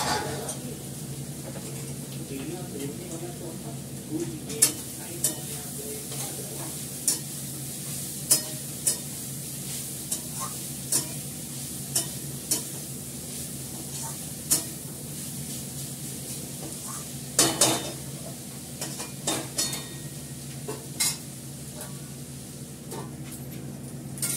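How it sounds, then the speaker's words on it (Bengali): Ginger paste, onion paste and cumin seeds frying in a pan, a steady sizzle throughout with intermittent clicks and taps of a spatula stirring against the pan. "আদা বাটা দিলাম, পেঁয়াজ বাটা দিলাম, জিরেটা ফোড়ন দিলাম"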